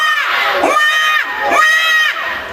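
A group of children shout together at a 2008 song performance, giving two loud, drawn-out cries close by, each one cutting off sharply before the next begins.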